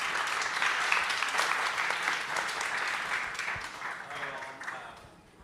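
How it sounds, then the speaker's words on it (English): A conference audience applauds panelists at a fintech event on digital asset custody, a dense, steady wash of many hands clapping that holds for several seconds and then thins and fades out toward the end. "Why don't we give our excellent panelists a round of applause."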